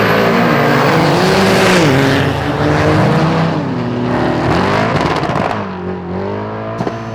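A 2000 Ford Mustang engine runs loud and close, revving up and down through several rises and falls with rough, throaty roar and brief tire noise, without any talking.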